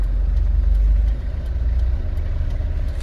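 A car engine hums low and steady during a driving lesson, the rumble strong at first then easing slightly; no talk is heard.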